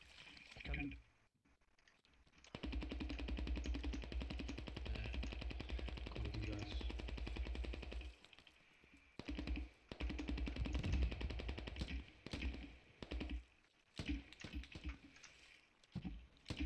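Machine gun fire in the tactical shooter game Squad crackles in sustained rapid bursts, loud and continuous with short pauses between volleys, mixed with faint voice chat.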